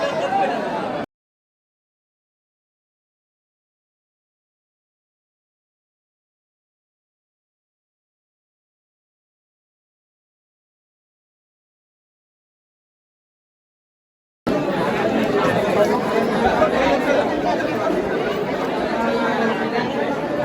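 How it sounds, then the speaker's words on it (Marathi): A crowd chatters at Ekvira Aai temple in Karla, Lonavla, a dense murmur of many voices that cuts off after a second, falls silent for a long stretch, then returns as a steady, close hubbub. "गर्दी."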